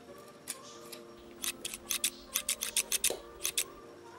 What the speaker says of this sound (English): And so I brought a pair of scissors.